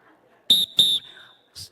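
Two short, loud, shrill whistle blasts close together, followed by a fainter third chirp, with no talk over them.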